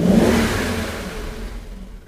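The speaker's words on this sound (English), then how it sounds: "Let's start the engine." A car engine, hooked to a scan tool for reading fuel trims, starts and revs up loudly, the roar peaking at once and then settling into a steady idle.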